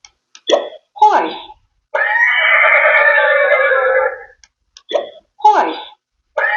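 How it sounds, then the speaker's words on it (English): Talking flash card device for toddlers playing a recorded horse neigh, a long whinny between short spoken word prompts from the device. "H for horse."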